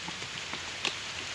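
Steady rain patters on a surface nearby, with a few sharper drops standing out from the constant hiss.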